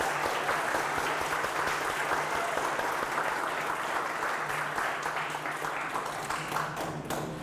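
A gallery audience gives a steady round of applause to honour the gallery director, with dense clapping from many hands that holds at an even level throughout.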